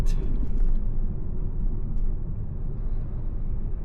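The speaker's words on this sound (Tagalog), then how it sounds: "Sobrang daming truck." Road traffic thick with trucks near Calumpit, a deep continuous engine rumble and drone close by, loud and steady throughout with no talking.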